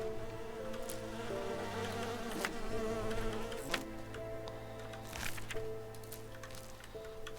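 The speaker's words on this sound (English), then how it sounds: "Lots of bees." Many bees buzz in the fantasy role-playing game Enderal. The steady droning swarm hums continuously with overlapping wingbeat tones, and sharper close passes flit by now and then.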